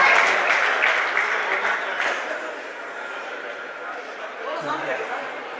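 A school audience gives strong, dense applause that gradually fades, with chatter and a voice emerging near the end.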